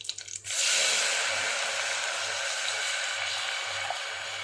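Tomato juice is poured into rice in a cooking pot. After a brief quiet moment, it becomes a steady, fairly loud rushing pour that lasts to the end.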